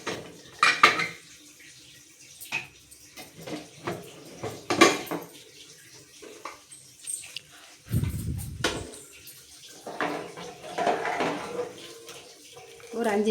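A metal pressure cooker clanks and scrapes up close as it is opened after whistling, with a brief burst of hissing steam and some water and utensil clatter while cooking black chana kurma.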